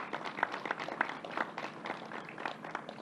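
Faint, distant applause from an audience at a governor's news conference, a soft continuous patter of many hands clapping together.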